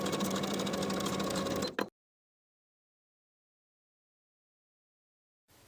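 A sewing machine runs in a short, steady burst while back stitching a blouse bodice shoulder seam. It stops abruptly and is followed by silence.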